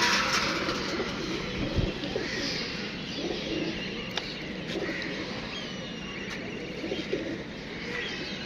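Several pigeons coo in repeated low throaty calls, moderately close, over steady ambient outdoor noise with a few brief knocks.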